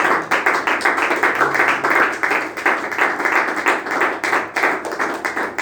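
A church congregation claps together in acclamation during a Sunday service, a dense run of fairly loud, rhythmic claps that stays steady throughout.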